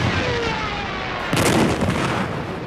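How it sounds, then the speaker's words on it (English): A loud, rumbling tank explosion bursts out midway over continuous Battle of Normandy combat noise, then slowly decays back into the steady din. "More tanks are torn to pieces with loud explosions."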